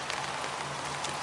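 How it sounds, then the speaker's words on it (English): Steady rain pouring down at an outdoor cricket ground during a grade match, a dense even hiss of drops hitting surfaces with no breaks, fairly loud and continuous. "The rain is coming down. The rain is pouring down."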